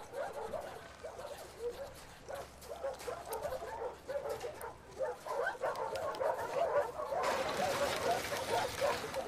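A dog in the video game The Last of Us Part II whimpers, yips and gives soft barks close by. The excited noises come in an irregular string and grow busier toward the end.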